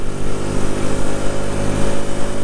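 Rieju Century motorcycle engine running steadily while being ridden on a dirt trail, a loud, continuous droning hum with slight fluctuations in revs throughout.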